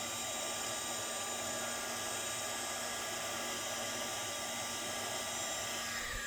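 A heat tool blows a steady, loud whirring hiss with a constant high whine while melting embossing powder on a wedding card, unbroken throughout with no talking.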